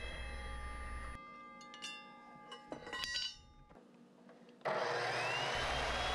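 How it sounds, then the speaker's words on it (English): A miter saw cutting a Hawk Helium climbing stick: a loud motor whine, then a rough grinding cut through the stick, with a brief lull before the motor surges again close by, no talk. "I used a miter saw."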